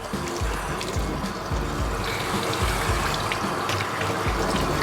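Steady hiss of shower water spraying and running over a Bichon Frise being bathed, rinsed from the rear toward the feet and back, continuous and close with no talk over it.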